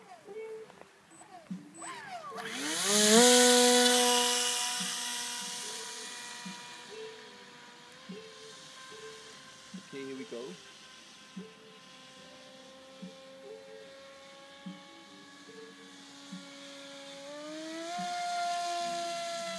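Upgraded electric motor of a Bixler 2 RC model plane, whining up to a loud high-pitched scream at full throttle, then holding and shifting pitch as it climbs, with a person talking over it.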